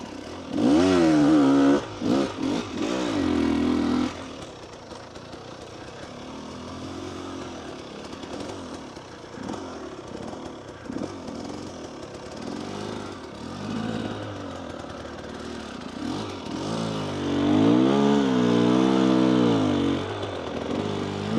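A motorcycle engine revs and drops during slow clutch control practice, with loud, buzzing bursts at the start and end and a lower, uneven idle and part-throttle drone between them, heard close up.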